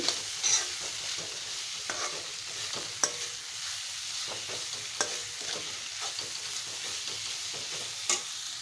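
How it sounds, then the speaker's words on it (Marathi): Wild kudya bean pods being sautéed in oil, Malvani style, with a continuous close sizzle broken by repeated stirring scrapes and occasional sharp clicks of the utensil against the pan. "व्यवस्थित हे तेलात परतवते"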